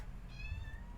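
A single short meow from a house cat, faint and close, heard alone against a low background hum.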